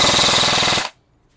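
Upgraded airsoft gun tuned to about 600 FPS fires a rapid full-auto burst, a dense, loud, evenly paced stream of shots lasting under a second before cutting abruptly to silence.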